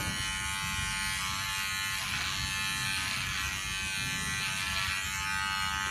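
Electric hair clippers run in a continuous steady buzz while cutting hair in a razor-cut haircut, holding an even, close, moderately loud drone throughout with no talking.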